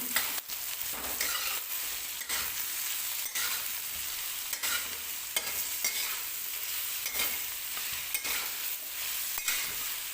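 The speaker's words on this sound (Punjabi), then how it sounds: "ਇਹਦੇ ਵਿੱਚ ਚੀਨੀ ਪਾਈ ਹੁੰਦੀ ਆ ਤਾਂ ਕਰਕੇ ਥੋੜਾ ਤੇਜ਼ ਤੇ ਫਾਸਟ ਹਲਾਉਣਾ ਪੈਂਦਾ" Spice masala and sugar are stirred quickly in a hot pan for Punjabi-style carrot pickle, giving a steady close sizzle with repeated scraping strokes of the spoon throughout, with no speech.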